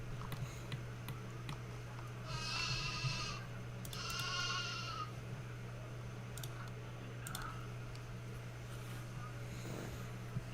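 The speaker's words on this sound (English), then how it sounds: "We've got sheep in here" Sheep bleat in the zoo-building game Planet Zoo, two distinct bleats in sequence over a steady low hum and faint ticking, with quiet game ambience throughout.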